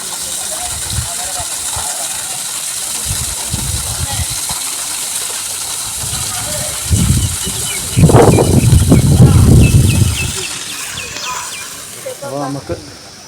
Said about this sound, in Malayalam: ഇപ്പോൾ ഈ ക്ഷേത്രത്തിൻ്റെ മുകളിൽ നിന്ന് വരുന്ന വെള്ളച്ചാട്ടമാണ് കാണുന്നത്